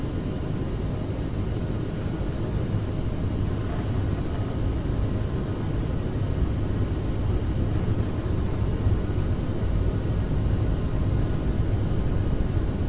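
Airliner engines at takeoff thrust in Microsoft Flight Simulator 2020 on departure from Stockholm, a steady, loud, unbroken roar with a faint high whine on top, continuous throughout with no talk.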